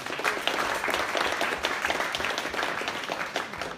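Crowd at a tech lightning-talks evening claps warmly, a thick, sustained burst of many hands close by, slightly uneven in intensity, alone without speech.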